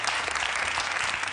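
A studio audience on an Italian TV cooking show claps steadily, a dense, close burst of applause filling the whole moment with no talking over it.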